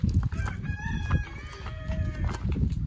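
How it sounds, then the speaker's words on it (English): Chickens cluck and cackle repeatedly nearby at a house in Nepal on a rainy day, with a rooster's crow rising among the calls over a faint outdoor background. "Yo, look at the chicken and the chicks."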